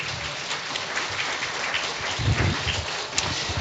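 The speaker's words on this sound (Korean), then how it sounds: "우리 목사님 박수로 환영하도록 하겠습니다" Applause rising at a church revival service as a congregation welcomes the pastor, a broad steady clatter of many hands with a fuller burst toward the end, no voices over it.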